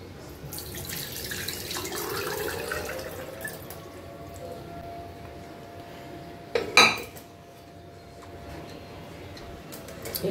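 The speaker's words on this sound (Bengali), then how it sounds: "এবার এই স্টকটাকে আমি ছাঁকবো।" Homemade chicken stock is strained into a pot in a home kitchen: a steady pouring stream runs for several seconds, broken by a sharp metallic clatter of the pot and utensils, with no voices.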